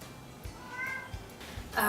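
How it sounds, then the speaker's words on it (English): Indoor cats meow briefly and faintly in the background, a short mewing cry over steady room noise. "The cats are going crazy."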